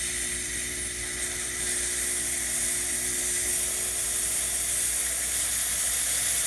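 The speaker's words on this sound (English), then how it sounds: "we have the switch turned on in the back for steam" Steam wand on a Quick Mill Silvano Evo espresso machine hisses steadily and loudly, a continuous bright rush that builds slightly and holds without pause, with no talk.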